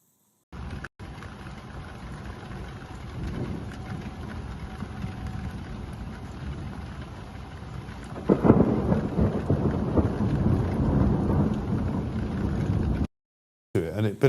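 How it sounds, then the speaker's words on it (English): Rumbling thunder rolls continuously through a pre-dawn thunderstorm with steady rain, a loud nearby clap swelling mid-way and staying heavy before the sound cuts out. "This is the thunderstorm from this morning"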